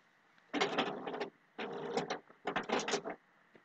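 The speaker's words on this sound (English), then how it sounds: "you can probably hear the printer running." A printer whirs and clatters in three mechanical passes, each lasting about a second with short pauses between, moderately close in a quiet room.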